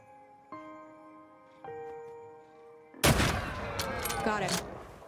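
Gunfire erupts in The Red Lantern video game: a sudden loud burst of shots and impacts after a quieter stretch of steady tonal music, with several sharp cracks following in quick succession.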